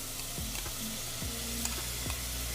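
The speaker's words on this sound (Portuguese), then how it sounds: "Vou colocar aqui creme de leite." Cream poured into a hot pan of mignon beef sauce sizzles and fries, a steady close crackle with a few stirring scrapes, no talk.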